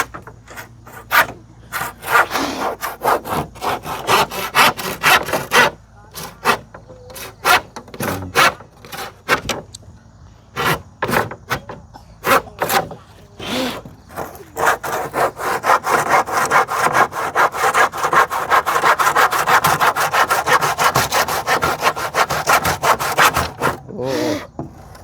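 Wood is cut with a hand saw in long runs of rhythmic rasping strokes, close and loud, pausing briefly and then settling into a fast, steady stroke pattern toward the end.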